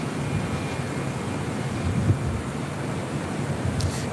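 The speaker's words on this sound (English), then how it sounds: "Coletta Air 747 pulling into Singapore Airlines cargo here on the south side" Kalitta Air Boeing 747 taxiing toward the Singapore Airlines cargo area on the south side of LAX, a low, steady distant engine rumble mixed with wind noise and no talking.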